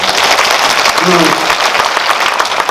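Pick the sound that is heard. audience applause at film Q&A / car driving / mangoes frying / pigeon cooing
audience applause at film Q&A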